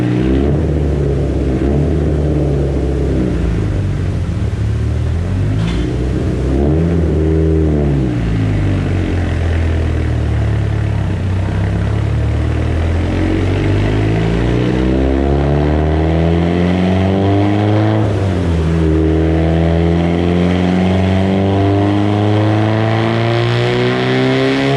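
A turbocharged Mitsubishi Lancer Evolution 8 with a 4G64 engine, GSC R2 cams and a BorgWarner 9174 turbo roars loudly and close as it accelerates hard. The engine pitch climbs steadily, drops at a shift, then climbs again.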